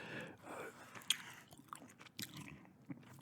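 Gum being chewed close to the microphone in an ASMR recording, with soft wet smacks and small crunchy bites repeating irregularly over a few seconds, alone without talk.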